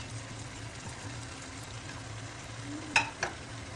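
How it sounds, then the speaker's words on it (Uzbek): Onions fry in a pan for a wedding-style Samarkand kabob, with a steady low sizzle and a faint bubbling hiss, then two sharp clinks of a utensil near the end. "Yaxshilab qovurib bo'lgach, piyozlarni solamiz"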